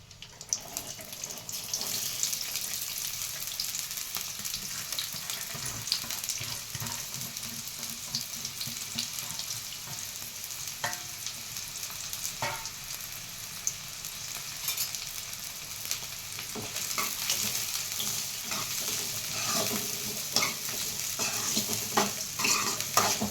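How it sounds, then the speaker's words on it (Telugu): Sliced onions frying in hot oil for a village-style fish and egg fry, a steady bright sizzle with frequent scraping stirs and clinks, growing louder toward the end, with no talking. "అలాగే ఆయిల్ వేడెక్కిందండి. ఇప్పుడు మనం ఉల్లిపాయ వేసుకున్నాం."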